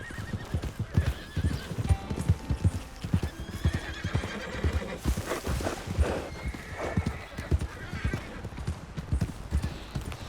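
Horse hooves clop in quick, uneven beats in Red Dead Redemption 2, close and clear, with a loud whinny rising midway and some faint speech in the background.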